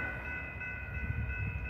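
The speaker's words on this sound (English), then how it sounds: "here comes northbound BNSF flight power" BNSF 3748 locomotives running as light power, northbound with no cars: a steady low engine rumble with a faint sustained tonal hum, close and constant, no voices.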